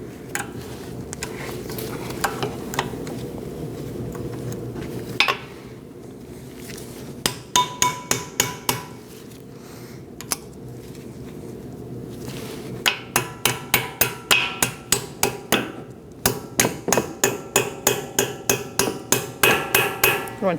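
Light hammer taps on a brake part being fitted to a Cadillac ATS during a front brake job, scattered metallic knocks at first, then a long series of quick rhythmic taps close to the microphone.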